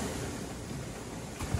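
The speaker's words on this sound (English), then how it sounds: "Oh, it's so windy." Strong wind buffeting the microphone at a boat anchorage at Crab Cay in the Bahamas, a loud, steady roar with no talking.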